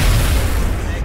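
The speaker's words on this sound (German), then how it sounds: "Sehr schöner Schuss gewesen." A single loud, booming gunshot blast with an explosion from the XCOM: Enemy Unknown video game, filling the moment with a dense, rumbling roar.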